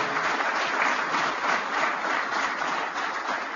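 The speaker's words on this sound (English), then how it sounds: "Let's give a round of applause to Congressman Dave Joyce" Steady, sustained applause from a large crowd at a political speech event in Cleveland, dense overlapping clapping filling the whole stretch at an even, fairly loud level with no talking.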